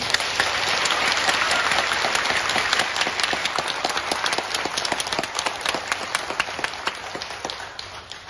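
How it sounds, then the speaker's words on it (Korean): A church congregation applauds a priest with steady, sustained clapping from many hands, even and unbroken throughout. "신부님에게 격려의 박수 부탁드립니다."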